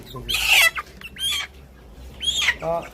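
Chickens cluck and squawk in short, loud bursts while being weighed on a poultry farm, over a steady low background hum.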